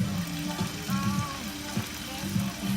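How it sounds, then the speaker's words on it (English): Steady crackling sizzle of meat frying in hot oil in a pan, with a low rumble beneath, continuous and fairly close, with faint voice-like murmurs mixed in. "You always want to sizzle when your meat hits the oil."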